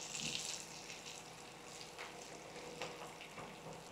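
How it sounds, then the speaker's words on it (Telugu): Onions fry in oil as Telugu home cooking goes on: a soft, steady sizzle with light crackles, heard faintly at close range with no voices. "అది వేగుతుంటే ఇదిగోండి ఎండు మిరపకాయలు"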